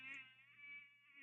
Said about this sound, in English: the bee flies and you hear the buzzing noise.